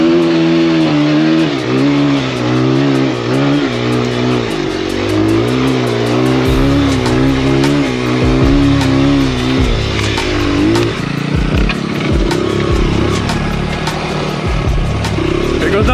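A Honda XR100R dirt bike engine on an enduro trail drones loud and close, its pitch rising and falling as the throttle works, with a rough sputtering stretch toward the end.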